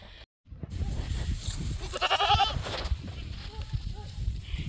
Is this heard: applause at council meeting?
no